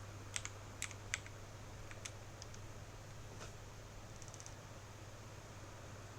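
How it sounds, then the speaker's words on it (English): Computer keyboard typing, a few scattered sharp keystrokes near the start and a light cluster later, faint over a steady low electrical hum. "I have 3 modes on my keyboard."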